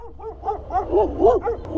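A dog barks and yips in a quick irregular run of sharp calls on a street in Ankara, fairly close and loud, with a short clatter at the end.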